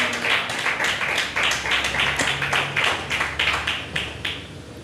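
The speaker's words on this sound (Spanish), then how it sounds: "Denle un aplauso fuerte al Señor Jesucristo." A church congregation applauds and claps in praise of Jesus Christ, a dense, continuous patter of many hands with some rhythmic beats, steady and fairly loud over a low hum.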